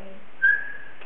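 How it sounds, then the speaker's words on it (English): A single whistle blown once to start a kids' wrestling match at home, a clear steady tone lasting about half a second and then fading, with nothing else around it. "Blow the whistle"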